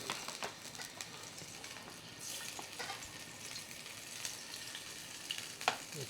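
Meat dropped into hot oil for a restaurant-style beef bhuna, sizzling and frying steadily with soft stirring and patter throughout, a few sharper crackles near the end.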